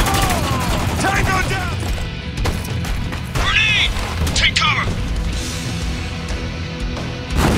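Gunfire and a grenade blast in the war shooter Spec Ops: The Line, loud bursts of shots, crashes and a booming explosion over dense noise, with soldiers shouting callouts.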